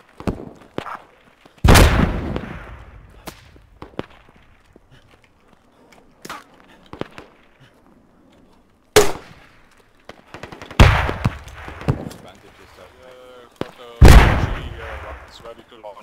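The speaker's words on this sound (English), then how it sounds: "They're shooting from northeast 30." Gunfire in the video game Squad, with several loud, sharp shots and bursts spread irregularly across the clip, some near and booming, others fainter and distant, separated by quiet stretches with light movement noises.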